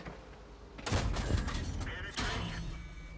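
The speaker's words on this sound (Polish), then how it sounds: "Przyjmuję kolejny niepotrzebny strzał." A tank shell slams into the player's own tank in World of Tanks, two loud, sharp metallic impacts with booming crashes about a second apart and ringing rumble between them, with no talking.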